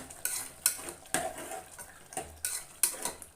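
Metal spoon scraping and clinking against a cooking pot while curd is stirred into half-cooked mushroom biryani, with irregular close scrapes and taps and no talking.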